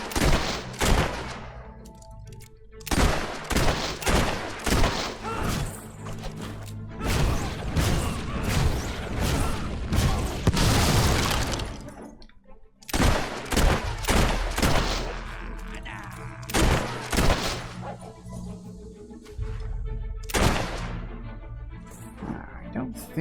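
Bursts of gunfire from a Fable 3 battle crackle through the scene in dense volleys, with sharp shots, crashes and a swelling roar near the middle, while people talk over the fighting.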